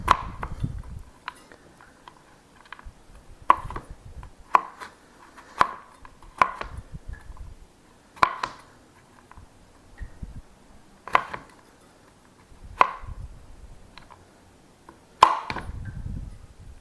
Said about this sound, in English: we're going to chop them up